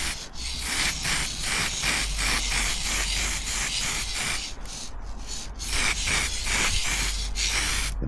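An aerosol can sprays a thin coat of red paint onto a Triumph part in repeated short bursts. The hissing pulses are close and fairly loud.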